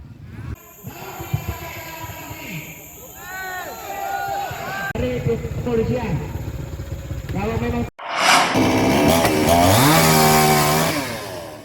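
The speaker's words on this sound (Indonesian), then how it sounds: "Menggunakan gergaji mesin, Satpol PP membongkar lantai yang dipasang di atas parit Jalan Niaga Timur." A chainsaw whines and buzzes in bursts, cutting through wooden floor planks laid over a roadside ditch, rising and falling in pitch, with a loud close roar near the end; a voice talks over part of it.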